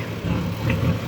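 An XCMG EX135 excavator's engine running, a low steady idling rumble heard close up.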